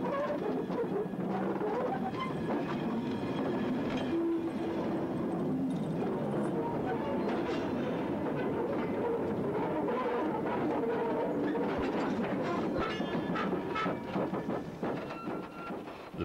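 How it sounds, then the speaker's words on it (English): Steady rumble of a steam-era train rolling along bolted rails on wooden sleepers, with rhythmic clicking of wheels over rail joints throughout, loud and continuous. "Even the sound of wheel running on rail in the classic age was different."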